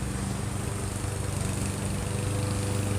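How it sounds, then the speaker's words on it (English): A lawn mower running outdoors in the background, a steady, droning engine hum with no pauses, heard fairly clearly with no talk over it. "You can also hear that there's a codger running around behind me with a lawnmower."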